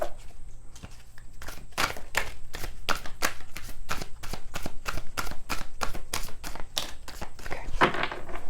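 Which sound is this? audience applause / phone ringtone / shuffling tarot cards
shuffling tarot cards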